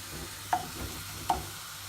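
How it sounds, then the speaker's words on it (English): Stirring browned onions frying in a pan, with two distinct scraping strokes over a soft, quiet sizzle. "Stirring my onion now. Keep stirring and just wait for the onion to release the water."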